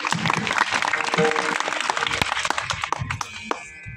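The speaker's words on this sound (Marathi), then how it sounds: "त्यांच्यासाठी टाळ्या वाजवत" An audience at a kirtan gathering claps for the accompanists, a dense burst of hand claps that thins out toward the end, with some background voices.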